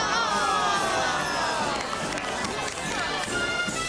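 Children in a school crowd cheering and shouting for the new school mascot, a loud continuous wash of young voices and hubbub with no distinct individual claps.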